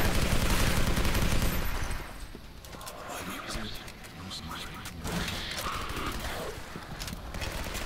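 Video game gunshots crackle in rapid, dense volleys at first, then thin into scattered shots and thuds over a busy game soundscape while a player talks.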